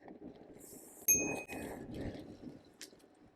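A single bright bicycle bell ding rings out clearly, with a lighter ping following later over faint background rumble.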